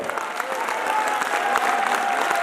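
A live audience at a large meet stands and claps loudly, with sustained dense applause and some crowd noise filling the whole stretch at even volume.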